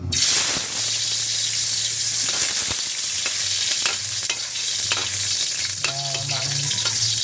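Ginger sizzles in very hot oil in a pan, cooking for chicken tinola: a steady, loud frying crackle and hiss runs throughout, with occasional stirring clinks.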